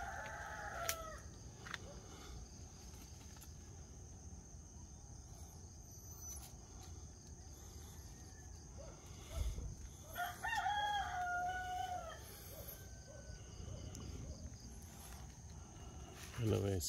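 Chickens in a coop, with a rooster crowing and hens clucking in short bursts against a quiet, low background hum, heard from a modest distance.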